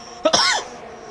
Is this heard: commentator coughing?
yes